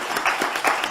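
An audience at an economic excellence awards ceremony applauds, a brief burst of steady clapping from many hands filling the room.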